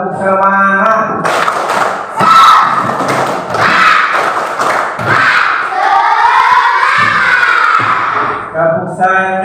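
Fourth-grade pupils in an Indonesian primary school classroom perform a loud, rhythmic clapping chant, with sharp claps and chanting voices together. The teacher's voice is heard briefly before and after.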